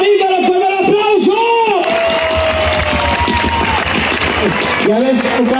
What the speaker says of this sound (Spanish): vamos a dar otro aplauso, pero sin gritos, puros aplausos